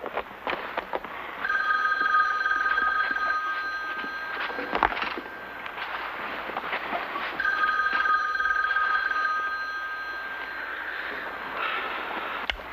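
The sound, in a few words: telephone ringing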